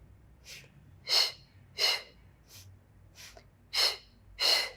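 Rhythmic breathing during a Pilates foam roller workout: about seven airy breath bursts, several strong and a few soft, spaced roughly every half second to a second, close to the microphone against a faint background hum.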